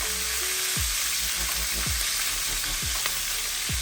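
Onion and garlic with mustard seeds, urad dal, cumin and dried chillies sizzle steadily in hot oil for a fish masala, a loud continuous frying hiss with occasional stirring scrapes and no talk.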